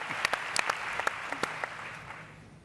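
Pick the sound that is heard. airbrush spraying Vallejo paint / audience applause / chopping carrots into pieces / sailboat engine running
audience applause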